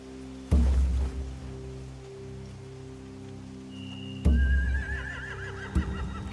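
A horse in The Walking Dead video game neighs twice, sharp loud whinnies over a steady ambient game soundscape, with a thud and a rising whistle-like tone in between.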